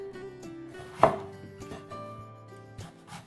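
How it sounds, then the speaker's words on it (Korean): A knife slicing washed eggplant into pieces on a cutting board, several quiet, irregular chops with one sharper thunk, close and alone. "깨끗하게 씻은 가지 적당한 크기로 잘라주세요."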